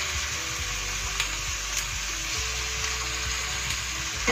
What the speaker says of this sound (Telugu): చక్కగా మనకి ఆనియన్స్ ఫ్రై అయిపోతున్నాయి ఇట్లా సాఫ్ట్గా